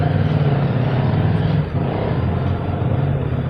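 CFMoto 300NK motorcycle on a test ride, its engine giving a loud, steady close rumble with wind noise, holding fairly even throughout.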